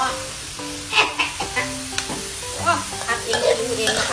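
Pork being stir-fried for Thai basil stir-fry, a steady loud sizzle broken by repeated scraping and stirring strokes of a utensil in the pan.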